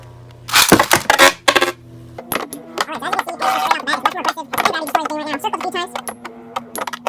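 Beyblade spinning tops launched and battling in a stadium: a sharp burst of launch rattles, then rapid clattering plastic-on-plastic clicks and scraping, close and fairly loud, with a person talking over it.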